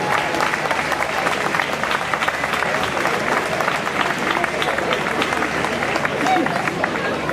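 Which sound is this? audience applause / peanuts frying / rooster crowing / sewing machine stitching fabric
audience applause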